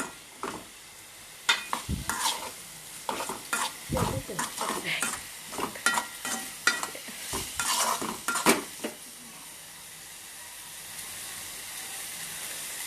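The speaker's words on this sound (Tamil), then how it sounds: "நல்லா ஸ்லிம்மில் வச்சு நல்லா ஃப்ரை பண்ணிக்கிட்டே இருங்க" Tomato gravy frying in a pan over low heat, with a close, steady sizzle broken by a run of scraping stirs in the middle before the pan settles back to a soft, even hiss.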